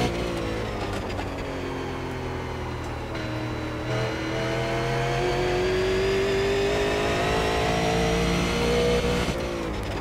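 A super late model race car engine in the iRacing sim, lapping the Thompson oval, drones loud and close with a continuous note that climbs gradually in pitch as it accelerates.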